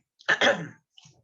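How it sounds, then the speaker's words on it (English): A single sharp cough close to the microphone, followed by a brief soft breath, in an otherwise quiet room. "I just had a cough."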